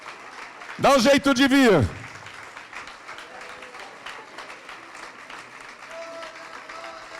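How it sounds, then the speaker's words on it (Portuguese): Church congregation applauding the Lord in a burst of clapping lasting about a second, loud and close, followed by a preacher talking over faint room noise and a sustained keyboard tone. "E vamos aplaudir ao Senhor Jesus por cada vida que está chegando."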